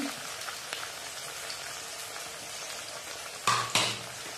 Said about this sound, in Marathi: कांदा चांगला परतून घ्यायचा लाल होईपर्यंत।